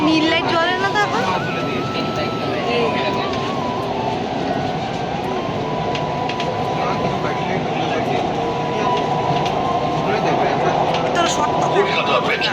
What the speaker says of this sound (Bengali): দেখতেই পাচ্ছ মেট্রো ময়দানের দিক দিয়ে আসলো, এসপ্ল্যানেড যাবে